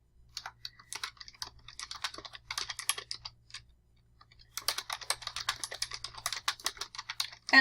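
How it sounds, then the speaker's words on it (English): Computer keyboard keys clatter in quick, uneven bursts as someone enters data into a table, with a short pause near the middle before the rapid typing resumes, close and fairly quiet. "So you're going to type this information."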